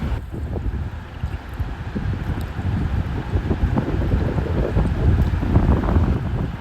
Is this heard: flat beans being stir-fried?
no